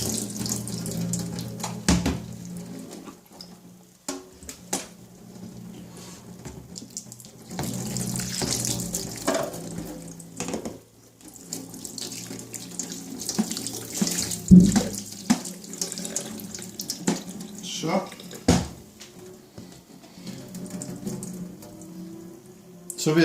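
Running tap water splashes steadily onto a computer motherboard in a sink, a continuous hissing rush with irregular spatters and clatter, loud and close.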